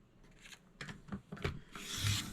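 A paper trimmer slices through a 4.5 inch piece of paper for a scrapbook layout, making a few quiet, short rasping strokes close by.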